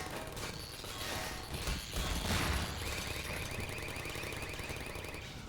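In Half-Life 2, a knocked-over turret gives off rapid, wild electronic beeping that rises among mechanical clatter and creaks, with no voices.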